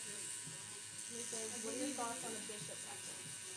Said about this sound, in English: Yes, this is a tattoo machine.